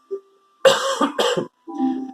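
A few sharp, harsh coughs close to the mic, a quick burst of two followed by a rougher, throaty cough, with brief quiet gaps between.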